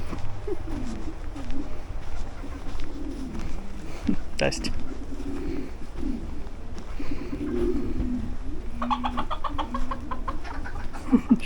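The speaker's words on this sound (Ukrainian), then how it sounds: "Також тут півники якісь, курочки, ці павліни." Chickens cluck and a rooster calls amid other fowl, including peacocks, with people talking nearby throughout; a steady outdoor farmyard bustle.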